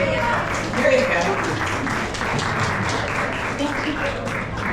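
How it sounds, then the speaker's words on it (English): A gathered audience at a memorial tribute applauds itself, steady clapping filling the room at moderate volume while a voice speaks over it. "So you should all clap for yourselves."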